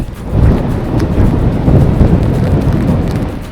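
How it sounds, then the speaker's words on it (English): Deep, rolling thunder rumbling continuously and loudly in Colorado's San Juan Mountains, with a constant wash of rain noise underneath and no voices. "Hear the thunder?"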